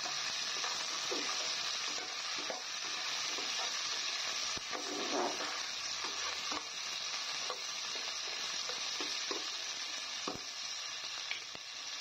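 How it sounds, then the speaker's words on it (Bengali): Thinly sliced onion and garlic fry in a non-stick pan with a steady, close sizzle, broken by soft scrapes and clicks as the pieces are stirred. No one speaks. "পেঁয়াজ রসুনটা দেওয়া হয়ে গেল। এবার একটু নেড়ে চেড়ে দেবো।"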